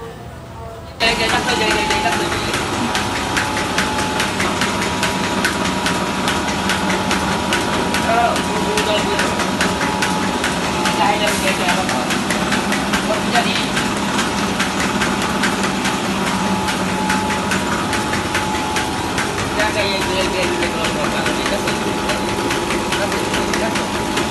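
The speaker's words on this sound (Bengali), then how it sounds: "মাত্র 23 এম্পিয়ার নিচ্ছে মোটরটি" A single-phase electric motor, converted from a 20-horsepower unit, runs continuously with a steady mechanical hum and faint rattling vibration, loud and close throughout, while someone speaks over it.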